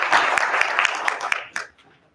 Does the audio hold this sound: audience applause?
yes